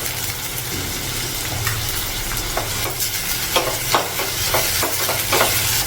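Tomato pieces hit a hot frying pan and are stirred, a steady close sizzle with clusters of scraping spoon strokes growing busier toward the end, and no voices.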